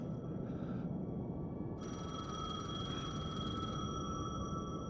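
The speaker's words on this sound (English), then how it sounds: "The payphone was ringing." A payphone rings in the Alan Wake 2 video game, a bright electronic trill that starts briefly, pauses, then rings steadily over a constant low rumbling ambience.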